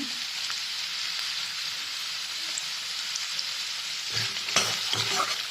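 Salted lentil dal with spices fries in a pan under a steady, bright sizzle, with a few spoon scrapes and clanks near the end.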